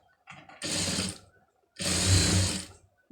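A sewing machine stitches a folded fabric hem for a hook-and-V panel in two steady mechanical runs of about a second each, separated by a short pause, loud and close.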